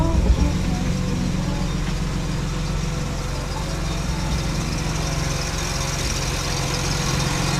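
A car engine idles steadily at close range while an alternator is checked with a voltmeter, a constant low rumble with no revving and no voices.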